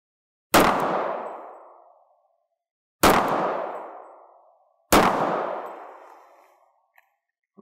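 A Sig 1911 pistol in .45 ACP fires three loud, sharp shots about two seconds apart at a range, each crack trailing off in a long ringing decay, with no talking.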